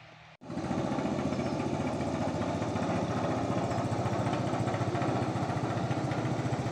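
A small 5 HP engine driving a 100 mm mini jet boat drive kicks in abruptly and settles into a loud, steady, buzzing drone that runs unbroken to the end, with no voices over it.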